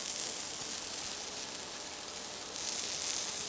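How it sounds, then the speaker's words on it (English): Fish sauce (nước mắm) hitting a pan of browning pork, giving a soft, steady hiss of sizzling that holds evenly throughout, fairly quiet and with no talk. "I am going to add in the nước mắm now"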